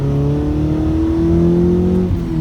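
A car engine revs loudly up close, its pitch climbing steadily, then drops off at the end.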